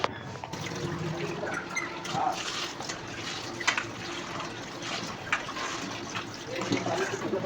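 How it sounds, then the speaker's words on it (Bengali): Lentils being rinsed in water in a bowl, a continuous swishing and sloshing of liquid with small splashes and handling knocks, close by and moderately loud. "আমি হচ্ছে ডালটা তাহলে ধুয়ে নিলাম"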